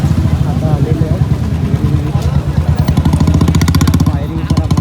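Several motorcycles idle and rev up close by at a busy Independence Day biker gathering at Hotel Ahura, their engines thumping in a rapid, steady rhythm, with voices faintly mixed in.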